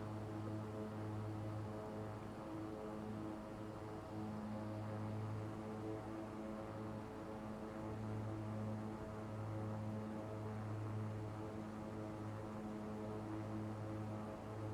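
The twin propeller engines of a Beechcraft B350 in X-Plane 11 drone steadily, with a constant low hum and layered tonal whine holding at even volume under a faint hiss.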